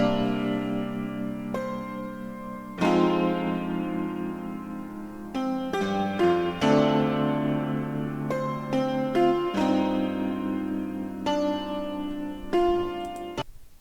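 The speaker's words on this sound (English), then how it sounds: "W1 tremor, also from Piano Tech," A W1 tremor instrument from Piano Tech plays sustained, shimmering chords in a jazz sample. Dense harmonic tones ring continuously with repeated attacks and long decays, loud and with no voice over them.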